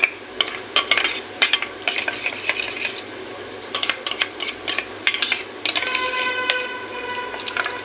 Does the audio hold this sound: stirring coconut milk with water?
yes